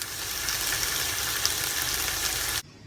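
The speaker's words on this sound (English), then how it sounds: "I'm just going to quickly saute these in this pan." Prawns marinated in lemongrass and ginger sautéing in a hot pan, a steady close sizzle and crackle that stops abruptly at the end.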